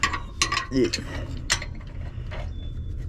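A 10 mm wrench works on a car part during race prep, with a few close metallic clicks and ratcheting taps over a low background hum, and a voice talks faintly at moments.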